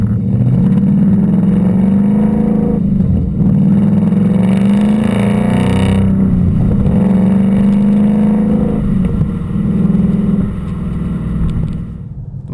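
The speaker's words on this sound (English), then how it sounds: "revving it up, it's loud, it crackles, it pops" A 2015-2017 Mustang GT fitted with a Mishimoto race axle-back exhaust with 4.5-inch black tips, muffler deleted, revs with a deep, loud, continuous engine roar that rises and falls with throttle blips, close and without talk.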